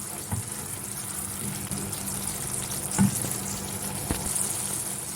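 Black pepper and chili flakes stirred into a sizzling pan for an anchovy dish: a steady oily hiss runs throughout, with a few soft stirring knocks and scrapes rising above it.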